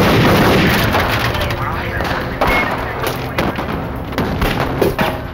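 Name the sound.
reenacted gunfire in a shootout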